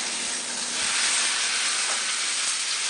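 Salmon fillet sizzling in a hot pan right after being flipped, a steady bright hiss that swells slightly and holds continuously, close and fairly loud.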